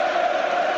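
Welsh football fans singing in a stadium at a Russia v Wales match, a dense, sustained crowd chorus that fills the space evenly and stays loud throughout.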